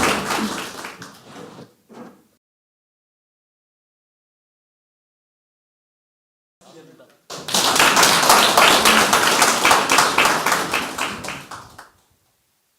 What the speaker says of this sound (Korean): 많은 박수 부탁드리겠습니다.